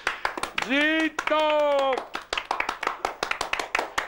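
An audience claps in quick, uneven bursts of sharp hand slaps throughout, while a voice breaks in with a long, loud, sustained cheer.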